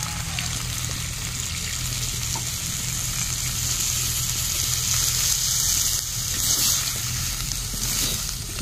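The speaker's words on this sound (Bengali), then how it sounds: "কিছুক্ষণ ফুটিয়ে নেব এই জলটার মধ্যে।" Chicken curry with potatoes simmering in water in a pot, a steady bubbling and sizzling hiss that holds evenly throughout without any talk.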